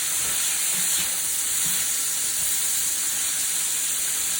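Shrimp sizzle in a hot pan, turned and left to cook longer for shrimp and grits, giving a steady bright hiss that runs loud and unbroken with faint low bumps from the pan beneath it.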